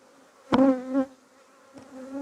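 At an open hive on a late-autumn apiary visit, a honeybee zips close by with a sudden loud buzz that fades within half a second. A fainter buzzing pass follows.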